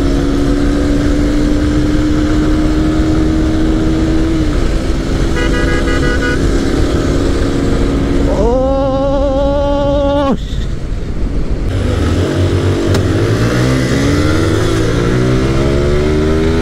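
TVS Apache RTR 160 4V and Honda Hornet 160 motorcycles drag racing side by side: loud, close engine drones rising in pitch through the gears, with rev changes and shifts, continuous and alone.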